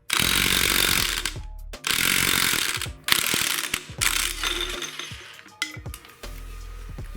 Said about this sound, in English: You're gonna need a 1 7/8 socket, 1/2-inch drive impact.